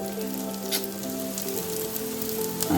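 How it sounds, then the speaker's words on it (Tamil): Chicken kola urundai meatballs fry in a little oil in a small pan, giving a steady close sizzle that runs evenly throughout with faint crackles and a background hum. "நான் உங்களுக்காண்டி தெரியணும் நல்லா தெரியணுன்றக்காண்டி இந்த சட்டியில் பொறிச்சிட்ருக்கேன்"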